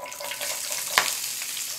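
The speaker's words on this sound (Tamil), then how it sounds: "இப்போ சின்ன வெங்காயம் சேர்த்து நல்லா வதக்கி விட்டுருங்கம்மா." Hot oil sizzles steadily with a soft frying hiss as chopped shallots sauté for an egg curry, and one brief clatter of stirring partway through.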